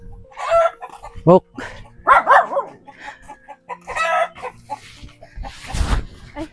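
Chickens cluck near a rural mountain home, with a rooster crowing and a dog barking in the mix, scattered calls over a quiet background while people talk briefly nearby.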